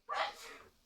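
A single short, breathy sneeze, fairly faint, with a quick burst followed by a fading exhale.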